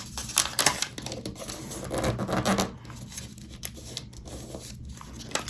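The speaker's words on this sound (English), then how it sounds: "we're going to fold from corner to corner" Origami paper being creased corner to corner, with crisp rustling and scraping strokes, a couple of louder bursts early on, then softer rubbing passes, close up with no talk.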